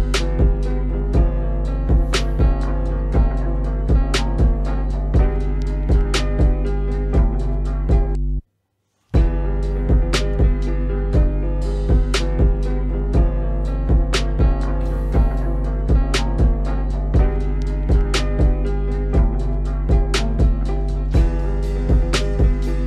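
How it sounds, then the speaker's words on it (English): A looping FL Studio drum pattern over a slowed halftime sample in old-school Kanye West style, steady kicks and crisp hits repeating continuously with a brief dropout near the middle, no voices. "I built a drum pattern around it"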